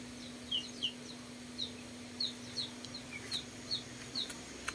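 Chickens in a coop on a muddy, cloudy afternoon give a series of short, fairly close clucks and chirpy calls at irregular intervals over a steady low hum.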